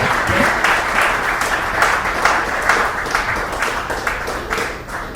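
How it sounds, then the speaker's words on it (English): A standing audience at a women's association event applauds warmly, loud and close, with a full continuous wash of clapping and some individual claps standing out over the whole stretch. "Please join me to stand and applaud warmly to salute Suad."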